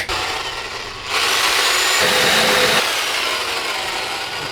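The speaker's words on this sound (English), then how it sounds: "we're gonna run the Sawzall through it" A Sawzall reciprocating saw cuts through steel tubing for a custom bash bar, a loud continuous buzzing rasp that grows stronger after the first second and runs steadily to the end, with no talking.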